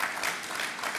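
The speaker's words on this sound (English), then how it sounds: "A round of applause for that." An audience claps steadily and evenly at the completion ceremony for the Port of Spain General Hospital central block. The dense applause from the crowd fills the whole moment.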